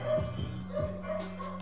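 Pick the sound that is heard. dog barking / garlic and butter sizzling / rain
dog barking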